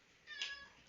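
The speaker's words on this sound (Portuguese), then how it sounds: "Eu tenho um gato aqui pra falar." A cat gives a single short, faint meow indoors, rising and falling within a second against quiet background hiss.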